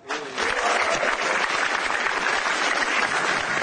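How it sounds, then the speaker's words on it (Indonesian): Steady, dense applause from a stand-up comedy audience for the comedians, a full sustained wash of clapping that swells quickly and holds loud, with no talk over it. "Tepuk tangan buat komik-komik kita."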